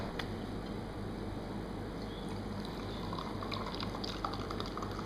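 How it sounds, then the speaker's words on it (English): Kaos Gold dissolves in a glass of water with a soft, steady fizz, fine crackling bubbles hissing continuously and faintly up close, with no talk. "You might see the fizz starts to build up soon."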